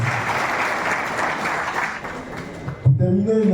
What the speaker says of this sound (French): Veuillez, s'il vous plaît, applaudir encore pour Son Excellence qui a fait un très beau discours.